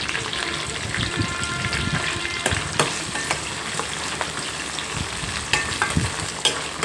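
Ajwain and cumin seeds frying in hot oil as a tempering, with curry leaves and a little jaggery in the pan, give a steady close sizzle with scattered sharp crackles and pops throughout.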